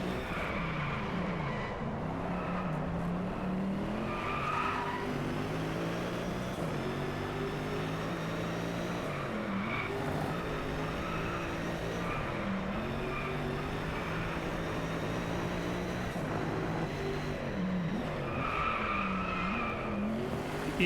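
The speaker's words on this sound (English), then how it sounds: "when I drove onto the grass, that sound happened, and it made my car spin out too" Car tires skidding and squealing as a racing-game car drives onto grass and spins out in Driveclub, a continuous engine roar with harsh skid noise running steadily throughout, fairly loud with no talk.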